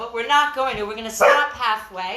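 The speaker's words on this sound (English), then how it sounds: "My dog likes to bark anytime someone comes up and down the stairs" A pet dog named Chloe barks indoors in a few sharp yips behind an instructor's voice during a kids' karate class, the barking largely blended under the talking.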